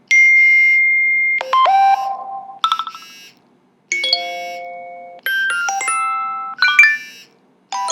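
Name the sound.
iOS 7 text message tone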